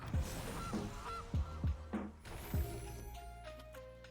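A goose honks several times in a Magic: The Gathering video game, short sharp calls spaced irregularly and fairly loud, alone without talk.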